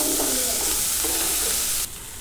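Capsicum and paneer tikka filling cooks in a pan, a steady close sizzle with stirring scrapes that drops to a quieter fry near the end.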